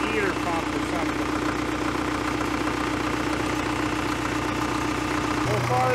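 A Cat D330C diesel generator engine, started after sitting for over ten years, runs at a steady, loud, rattling idle close by, with a voice talking over it before the note shifts near the end.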